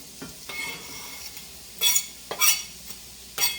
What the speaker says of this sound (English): this is what I'm going to put in the frying pan. Green pepper, red pepper, onion, and hot pepper.